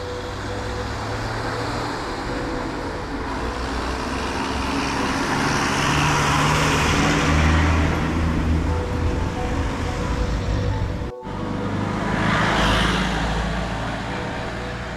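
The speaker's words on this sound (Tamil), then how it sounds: "நல்ல டிராஃபிக் ஆயிடுச்சு." Road traffic on the hill road between Munnar and Bodimettu, with cars, trucks and buses passing. A loud, steady rumble of engines and tyres continues throughout, with a brief cut just after the eleventh second and no talking.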